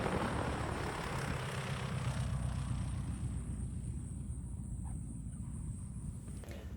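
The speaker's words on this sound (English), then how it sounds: "there was a cozy coming in for landing" Cozy canard aircraft coming in to land at a fly-in, a steady outdoor engine drone and rushing noise that slowly fades as it passes, with no talk.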